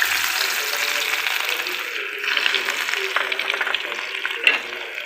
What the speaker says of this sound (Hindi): उसके बाद हम इसके अंदर थोम अदरक का पेस्ट ऐड कर देंगे।